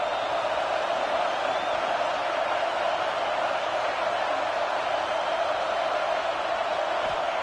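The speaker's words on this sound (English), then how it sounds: "This crowd bringing the energy and noise early." Stadium crowd at an NC State football game sends up a steady, dense roar of cheering and noise that holds evenly from start to finish.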